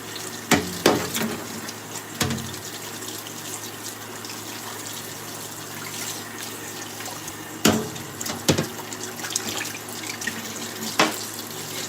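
Tap water runs steadily into a sink while dishes are washed by hand at home, with a few sharp clinks and knocks of crockery rising over the continuous splashing.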